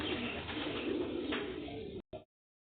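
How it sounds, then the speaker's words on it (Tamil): Fantail pigeons kept in a home cage coo softly and continuously, close by, before cutting off abruptly near the end. "அதுதான் மயில் புறா."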